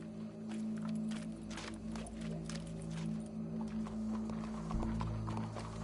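Horse hooves in a PS4 video game clop steadily at a middling pace, faint and somewhat distant beneath a constant low ambient hum, with no talk over them.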